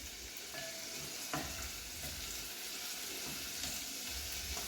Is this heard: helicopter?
no